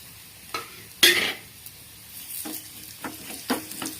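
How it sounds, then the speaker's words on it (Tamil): Drumstick leaf powder ingredients frying in a pan, with a ladle scraping and stirring in short clattering strokes over a quiet, steady sizzle. "இப்போ ஒரு கரண்டி ஆட்டி நல்லா வறுத்துங்க. ஏன்னா அப்போ தான் நல்லா பொரியும்."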